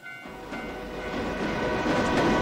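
A train in a Japanese horror video game rumbles closer, a steady mechanical roar swelling louder over a few seconds with no talk.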